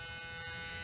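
Small drive motor inside a 1987 Sears VHS camcorder running steadily, a continuous close, quiet electric buzz with a faint whine and no break across the moment.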